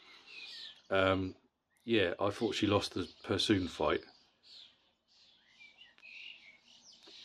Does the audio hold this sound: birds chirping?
yes